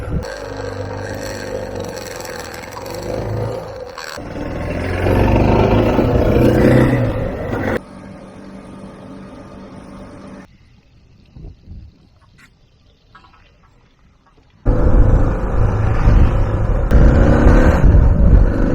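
A motorcycle sets off on an outback ride, its engine roaring loud and close, then falling to a low, distant rumble before surging back to a full, steady roar.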